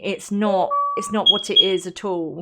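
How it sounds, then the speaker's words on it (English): Two short high electronic beeps of a smoke alarm self-test ring out over a person talking nearby. "that's my smoke alarm system tests itself every week."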